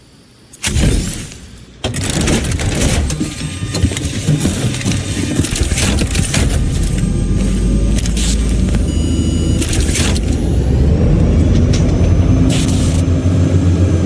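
Car in Cyberpunk 2077 starting up with a sharp burst, a brief pause, then a loud sustained engine roar as it pulls away and keeps driving, the rumble building steadily toward the end.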